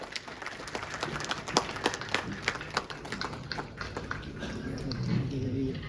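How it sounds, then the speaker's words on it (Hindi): Applause from an audience at a Bihar public health engineering department review meeting, welcoming a minister to the stage; scattered claps run throughout, fairly steady and moderately loud, with a voice over it near the end. "जोरदार तालियों के साथ"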